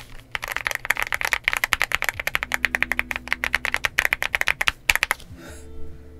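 Rapid typing on a Yunzii AL66 mechanical keyboard in stock condition gives close, crisp, evenly spaced keystrokes that run in a dense burst and then stop.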